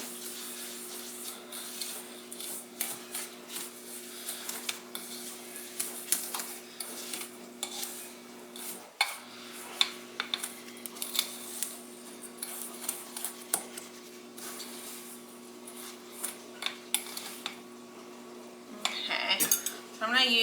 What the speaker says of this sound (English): But I'm just going to give us a good stir.